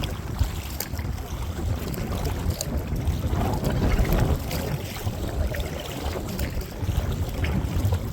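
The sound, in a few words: wind blowing on a creek while paddling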